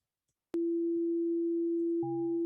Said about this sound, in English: when I press the bounce, you hear the transition to the amplitude modulated value, amplitude modulated sound